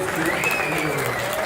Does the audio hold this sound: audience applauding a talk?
yes